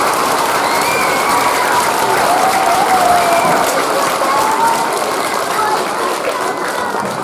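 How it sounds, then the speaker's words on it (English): A crowd gives veterans a round of applause at a school Veterans Day ceremony, a loud, sustained roar of clapping with faint cheers mixed in. "Can we give them a quick round of applause, everybody?"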